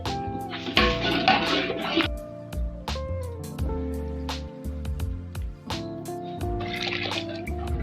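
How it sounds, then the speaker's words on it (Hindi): Water pours into a pot of frying mutton for a village-style biryani, sloshing and trickling in bursts over a steady sizzle with some clanking. "अब हम पानी डालेंगे।"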